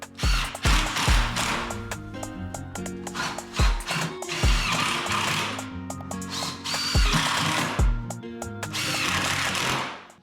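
Power drill driving self-tapping screws into a Larson 80 Tradewinds EZ Hang storm door: repeated whirring, grinding runs with sharp knocks between them, close and loud, with no talk.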